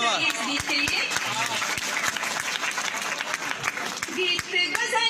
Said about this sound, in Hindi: जोरदार तालियां इस गीत के लिए।